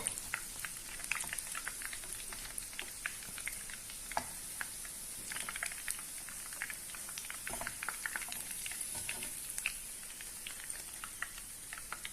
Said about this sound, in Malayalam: ബാക്കിയുള്ള കട്ട്ലറ്റും അതുപോലെ ചുട്ടെടുക്കാം.